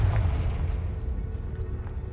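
A deep, rumbling blast from the Confringo explosion spell in Hogwarts Legacy, a low booming burst that fades over a couple of seconds.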